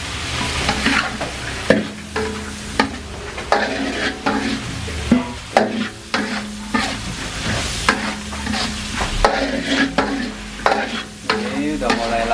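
Vegetables, including long beans with onion, are stir-fried in a pan at a small Padang food stall, with loud clattering spatula scrapes and tosses over a steady sizzle, continuous and close throughout.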